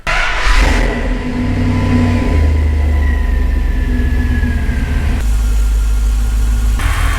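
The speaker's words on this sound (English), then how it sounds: "We'll start the truck and we'll see how far off we are." A Dodge Ram truck's engine turns over and settles into a steady, loud idle close by, with a low rumble, a whining tone sliding down, and brief shifts in pitch, no talking.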